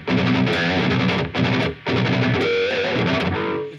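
An ESP Snapper Raiden 8 eight-string guitar, a signature model, plays heavily distorted, tightly chopped staccato riffs, loud and up close, with two brief gaps between bursts of chugging attack.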